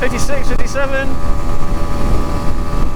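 Kawasaki Ninja 125 motorcycle engine held near 9,000 RPM in fourth gear while climbing a hill, a steady high-pitched drone under strong wind rush, with a person talking over it.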